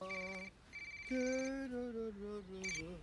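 A telephone rings repeatedly in a Hindi film scene, placed to a father. The ring is a melodic, tonal ringtone, fairly loud and clear, with no talk over it.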